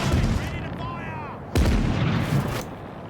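Ship cannons fire a broadside in the naval game Caribbean Legend, with two loud booming volleys about a second apart that roll and rumble in between. Voices can be heard faintly under the fire.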